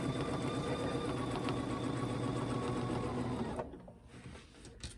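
A sewing machine stitches around the marked outline of a quilt block guided by a ruler, running in a steady, rapid whir that cuts off shortly before the end, leaving quiet room tone.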